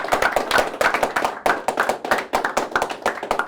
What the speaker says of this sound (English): We just give him just a big applause.